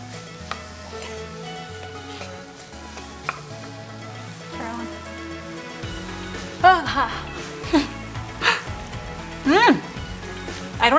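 Figs caramelizing with brown sugar in a pan over low to medium heat, a soft steady sizzle with stirring and a few louder scrapes, under talking.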